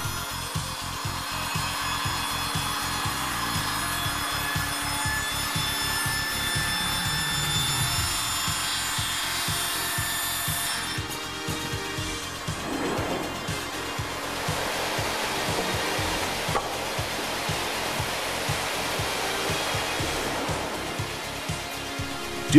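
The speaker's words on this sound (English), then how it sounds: "The four-axis saw can make any imaginable taper or compound cut required for jack rafters and elaborate joinery." A Hundegger K2i four-axis joinery saw runs loudly and continuously while cutting timber for rafters and joinery, a rapid mechanical drone with a grinding, rasping edge that shifts in tone partway through.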